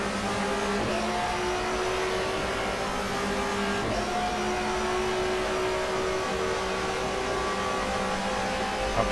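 A touring car engine drones steadily with gear changes and revving in the GTR2 racing game on the Nurburgring short track, continuous and loud throughout.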